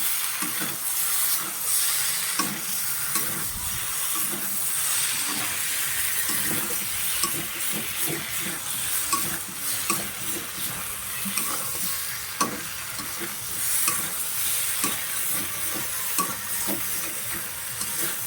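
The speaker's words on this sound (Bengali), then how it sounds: "এবার ভালো করে আবারও নাড়াচাড়া দিতে হবে।" Fish frying in a pan with eggplant and potato is stirred steadily, a dense close sizzle broken by repeated scraping strokes of a utensil, with no talk over it.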